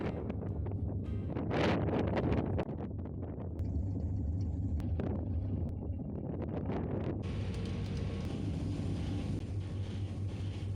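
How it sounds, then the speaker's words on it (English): Strong wind buffets the microphone on the upper deck of a ferry leaving Koh Samui, Thailand, over a low, steady engine drone and rumble that continues without a break. "I spent the time alone with a strong wind blowing all around me and the engines buzzing"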